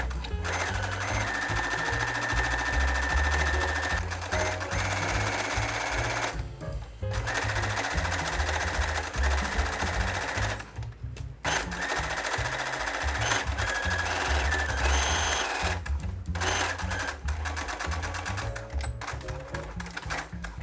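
Sewing machine stitching a knit t-shirt hem, a fast, steady mechanical chatter running in long bursts with brief pauses between runs.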